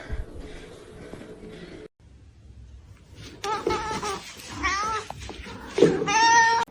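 A kitten meowing, with several rising, whiny meows that grow louder and more insistent toward the end after a quieter opening with soft indoor noise.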